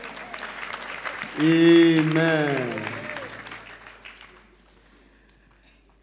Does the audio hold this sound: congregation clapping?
yes